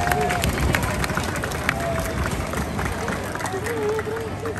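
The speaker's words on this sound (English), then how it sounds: "Another round of applause," Crowd applause at an outdoor Assyrian festival for a parade, a dense continuous clatter of many hands with background babble, while an announcer speaks over it.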